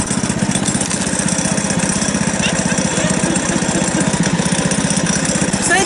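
A warm engine runs loud and close after being started, holding a steady rapid chugging idle with a rattly vibration throughout.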